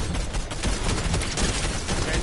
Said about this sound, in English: They're getting shot up from behind as well.